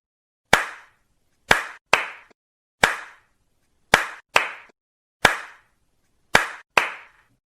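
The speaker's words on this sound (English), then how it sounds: "you have to listen to my claps carefully" A teacher claps her hands in a counting pattern, sharp single and paired claps ringing out alone in a quiet room, spaced in a one-two rhythm with short pauses between groups.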